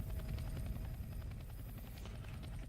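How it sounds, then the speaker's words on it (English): A rescue helicopter in the game Left 4 Dead 2 makes a steady, fairly faint rotor thumping and engine whine that drones on throughout without any voices. "There's the chopper."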